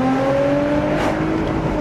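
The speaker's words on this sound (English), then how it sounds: "Let's hear a little exhaust clip." A Honda Odyssey minivan engine with an aftermarket exhaust holds a steady rev, its tone slowly rising as the exhaust drones loudly and close by.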